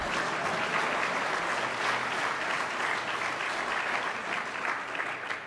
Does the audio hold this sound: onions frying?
no